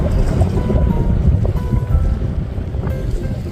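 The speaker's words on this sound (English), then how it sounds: "Always loved the sound of water." Water lapping at the shore of Lake Quannapowitt in Wakefield, Massachusetts, heard as a steady, close wash of small waves mixed with outdoor wind rumble, with no talking.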